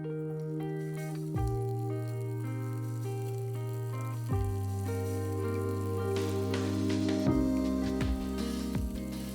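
Mashed potato goes into hot oil with mustard seeds and hing in a pan, giving a soft sizzle and squishy movement under steady background tones, with no voices.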